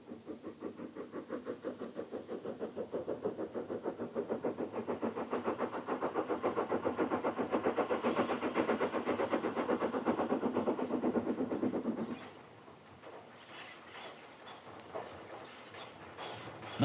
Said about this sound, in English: The locomotive can be seen in regular service on passenger trains following an extensive overhaul.